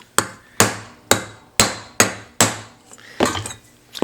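A hammer strikes the base edges of a copper vessel to flatten them, seven sharp, ringing metallic blows at a steady rhythm about half a second apart, close and loud.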